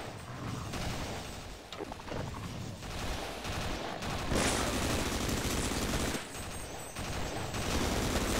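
Dense, continuous gunfire fills a Half-Life: Sven Co-op game, with bursts of rapid shots and mechanical clatter running throughout the clip at a steady level.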